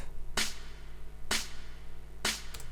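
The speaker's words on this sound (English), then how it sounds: "The first clap" Three evenly spaced, sharp clap hits from a drum sample in a Melbourne Bounce track ring out over a low steady hum, each a bright snap with a short decay.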